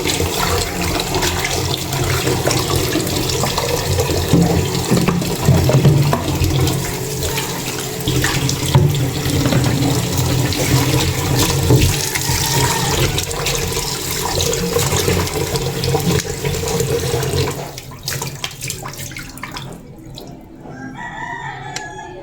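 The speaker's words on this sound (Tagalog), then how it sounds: "Yan po ating pong hugasan pa po." Tap water runs steadily into a sink while chicken liver and gizzards are rinsed, a continuous close splashing wash that stops abruptly near the end, leaving quiet.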